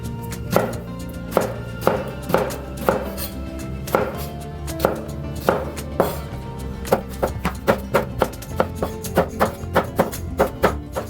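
A knife chops brinjal on a board, steady sharp taps in an even rhythm that speed up into a quicker run of cuts toward the end, close and clear with no talk.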